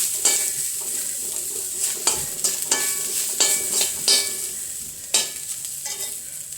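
Grated coconut, curry leaves, garlic and shallots fry in oil for bitter gourd theeyal, a steady close sizzle broken by repeated sharp scrapes of a spoon stirring the pan, with no voices.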